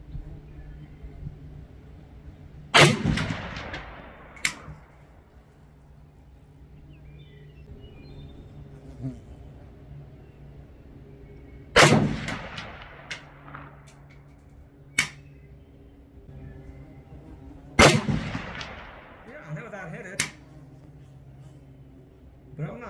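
A Romanian RPK machine gun firing at steel targets on an outdoor range, with three loud, sharp bursts spaced several seconds apart, trailed by faint metallic pings and quieter pops between them.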